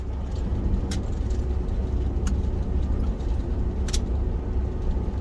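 Steady low rumble of an engine heard from inside a moving vehicle, with a few brief high clicks or rattles over the constant drone.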